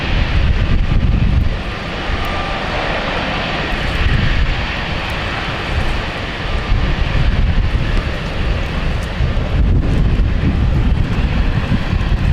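An Iberia airliner taxiing to park at London City Airport gives off a continuous loud engine rumble mixed with wind buffeting on the microphone, steady and fairly close throughout, without speech.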